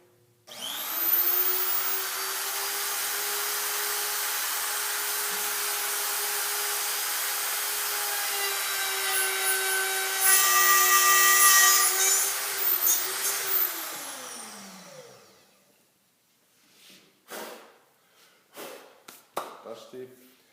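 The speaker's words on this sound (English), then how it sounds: "the motor will start up, and we'll slowly make our initial cut from the top down" A Hoffmann X 15 dovetail routing machine cuts into scrap wood, its motor spinning up to a loud steady whine with a rougher cutting burst partway through, then spinning down, followed by a few scattered knocks and handling noises.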